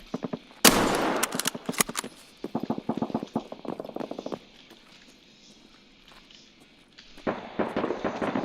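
Rapid shotgun fire and impacts in an online first-person shooter game come in dense, punchy bursts, close and loud, with a quieter stretch before another volley of shots.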